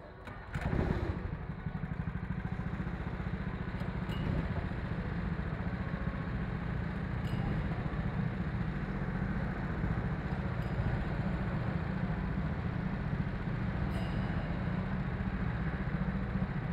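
Go-kart engines at an Exeter karting track start up and settle into a steady rumbling idle, a dense continuous engine drone that stays loud and close throughout with no talk over it.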